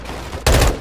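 An M4 automatic rifle in Call of Duty: Modern Warfare 2 lets off a brief, loud burst of rapid fire that cuts in abruptly and lasts under half a second.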